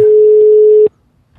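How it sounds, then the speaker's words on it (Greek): A telephone line gives a loud, steady single tone while a call is being placed. The tone cuts off abruptly after under a second, leaving near silence. "Παίρνουμε τηλέφωνο την Αυγουστίνα"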